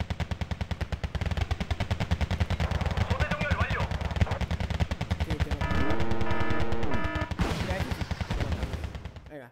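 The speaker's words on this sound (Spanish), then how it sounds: "¿Qué pasa con mi artillería? ¿Disparo o qué?" Rapid bursts of gunfire and heavy artillery blasts fire continuously in Wargame: Red Dragon, with electronic game sounds layered over the barrage.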